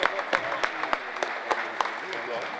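A home crowd cheering and clapping at a Swedish basketball game between Köping and Helsingborg, a dense roar of applause with scattered sharp claps, under a commentator's voice.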